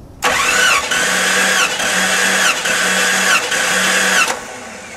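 The engine of a 1989 Jeep Cherokee cranks during a wet compression test, giving about four rhythmic bursts of starter whirring with short pauses between them, loud and close, without the engine catching.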